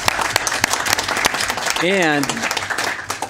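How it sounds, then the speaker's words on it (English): Audience applause at a town council meeting in Enfield, Connecticut, a steady patter of clapping from the room that builds midway and runs beneath a voice. "So I just will give her a little round of applause."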